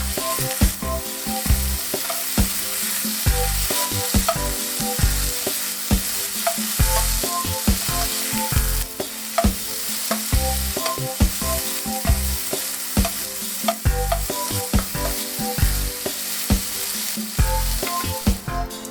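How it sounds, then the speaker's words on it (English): Chicken pieces for chow mein sizzle steadily in a hot pan, a loud continuous crackle broken by regular scraping and stirring strokes, with no voices. "fry for about 3 minutes until the chicken is done."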